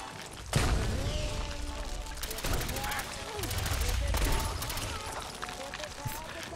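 Gunfire in a video game fight against Mirelurks, with a sharp opening shot and repeated rapid bursts through the clip, while people talk over the shooting.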